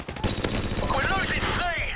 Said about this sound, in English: the suppressed P90 in MWR is one of the coolest sounding guns in the entire game